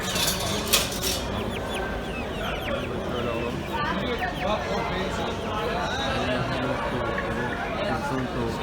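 Young Habeş and Brahma chickens at the Bursa bird market cluck and chirp continuously among many other birds, while several people talk nearby over the busy, crowded background.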